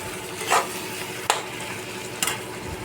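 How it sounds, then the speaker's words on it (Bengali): A spice paste with coriander and cumin powder fries in a pan with a soft steady sizzle, broken by three distinct spatula scrapes spaced about a second apart; no talking. "মশলাটা কষাবো"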